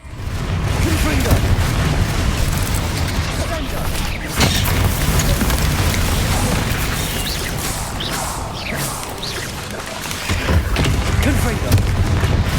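Explosive Confringo spell blasts in Hogwarts Legacy during a fight in a mine, a dense, continuous roar of booming impacts and crashing debris layered with combat noise, loud and sustained.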